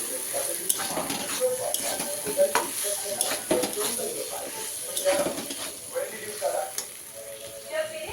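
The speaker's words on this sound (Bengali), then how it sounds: "এই দেখো কাঁঠালের তরকিটা এখন কষা হচ্ছে" Jackfruit curry sautéing in a pan gives a constant sizzle and hiss, broken by frequent scraping stirs, with bits of talk mixed in.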